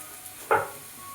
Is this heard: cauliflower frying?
yes